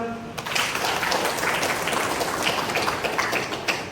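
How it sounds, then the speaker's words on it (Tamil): At a community nutrition-distribution event for people with special needs, a gathered audience breaks into clapping that starts abruptly and continues as an even, moderately loud patter for a few seconds. "கைதட்டுங்க ஒருக்கா"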